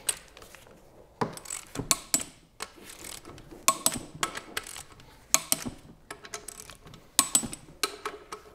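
Repeated ratcheting clicks and sharp metallic bursts from a torque wrench tightening stud nuts to 50 Nm on a Lamborghini engine block, close and intermittent with brief pauses between strokes.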